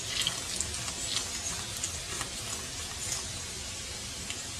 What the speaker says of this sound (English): With all your filters, always pump out the remaining water out of it.